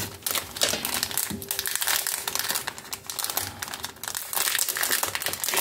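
A plastic packet of die-cut paper flowers being opened and handled, a close, continuous crinkling and rustling of thin plastic with no talking.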